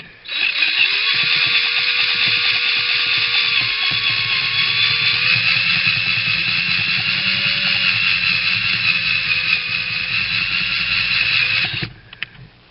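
A power drill whines steadily with a step bit boring through material for nearly twelve seconds, then abruptly stops, followed by a brief clunk.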